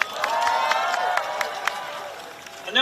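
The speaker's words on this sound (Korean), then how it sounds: "여러분, 큰 박수가 필요합니다." A crowd claps and cheers at an outdoor election campaign rally in Seomyeon, Busan: a dense, steady wash of applause with sharp individual claps popping out for almost three seconds, briefly swelling near the end.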